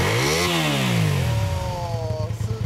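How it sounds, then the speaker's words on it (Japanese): A 1984 Honda VT250Z motorcycle engine with its stock exhaust revs up close and loud, the note sweeping high and then dropping away before settling into a steady, throbbing idle. "エンジン音聞かせてもらえるかな？"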